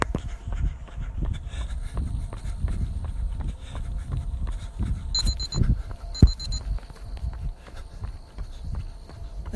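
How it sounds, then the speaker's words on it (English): A timer beeps in two short electronic bursts during an outdoor walk along a scenic, paved road, over steady footsteps and light outdoor background noise. "Guess I should get my timer going."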